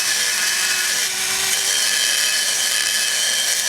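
A loud, continuous high-pitched drill whine grinding the metal of an LS engine exhaust port, steady and close with no pauses.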